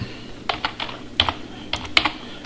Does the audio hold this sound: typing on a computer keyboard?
yes